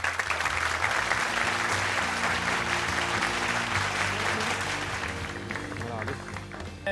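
A studio audience applauds a young social media personality being welcomed onto a Turkish talk show, a dense, steady roar of clapping filling the whole stretch at close range.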